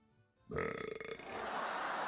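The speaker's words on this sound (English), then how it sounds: "I burped so hard I died in my game" A loud, drawn-out burp rumbles up after a brief quiet moment, wavering in pitch as it goes on, then fades into a rough, breathy tail.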